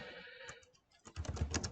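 Keys tapped on a computer keyboard while a command is entered, a short burst of close, quiet clicks following a near-silent pause, with no voices.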